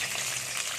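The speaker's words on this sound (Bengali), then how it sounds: "আমি এবার একটা একটা করে সবজি তুলে দিচ্ছি" Vegetables dropped into hot oil in a wok, a dense, even hiss of frying that holds steady and close throughout.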